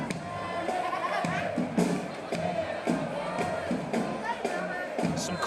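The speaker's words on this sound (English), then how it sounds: "Some classic music being sang out by the crowd." A stadium crowd at a Chattanooga FC soccer match sings in a steady, rhythmic chant, the massed voices rising and falling in regular pulses, with the sound filling the clip as a continuous background roar.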